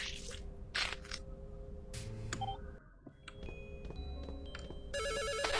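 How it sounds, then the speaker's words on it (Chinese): A telephone rings in the horror RPG video game Misao, electronic ringing tones and beeps over a layered game soundscape with shifting synthetic tones, moderately quiet. "就被电话声音吓一跳"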